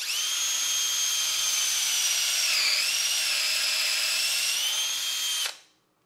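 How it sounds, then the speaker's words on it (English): A power drill with a 1/4 inch bit bores out a damaged bolt hole in a 1994 Toyota Corolla 7AFE cylinder head, whining steadily and loud for about five seconds, dipping briefly in pitch midway, then spinning down and stopping. "we're going to drill it out with a 1/4 inch bit"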